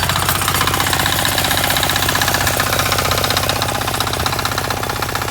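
A small single-cylinder walk-behind tractor engine chugs steadily and loudly up close, with a hard, rapid knocking rhythm throughout.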